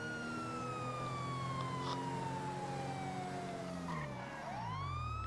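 A police car siren in the video game GTA 5, a steady wailing tone that slowly falls in pitch, then sweeps back up, over a continuous engine drone with no talking.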